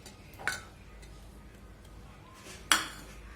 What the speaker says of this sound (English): And slowly mix it so the paneer cubes will not break